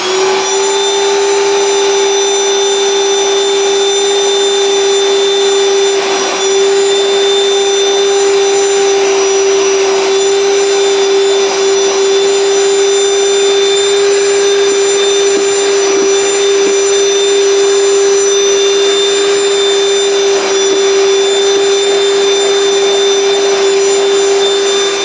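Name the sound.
cordless vacuum cleaner running, Ryobi 18V or Dyson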